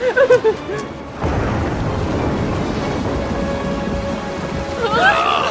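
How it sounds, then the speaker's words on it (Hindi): A cartoon thunderstorm at sea breaks in with a roaring rush of heavy rain and rumbling thunder, loud and continuous after a brief quieter opening. "क्योंकि तुम्हारे साथ है सिंबाद और वो तुम्हें बहुत जल्दी समुद्र तूफान से बाहर निकाल देगा।"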